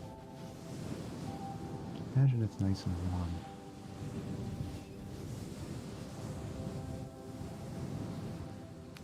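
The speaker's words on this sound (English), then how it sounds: "imagine the ocean because of these ocean sounds" Soft rolling wash of surf and wind noise runs continuously beneath a calm voice speaking, with a short low rumble near the start.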